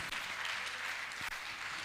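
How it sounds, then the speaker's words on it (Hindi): Audience at a Jain religious discourse clapping, dense steady applause from many hands in a large gathering, continuous throughout. "आप भी इनकी तालियां बजाकर इनका प्रोत्साहन करें"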